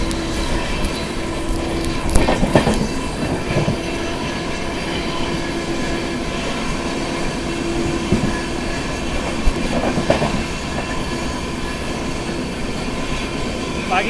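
Shiv Ganga SF Express (12559, Banaras to New Delhi) running at speed alongside a Humsafar train, with a steady loud rumble and rattle of rail cars, occasional clatter and brief squeals throughout.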